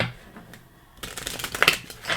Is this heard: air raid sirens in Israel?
no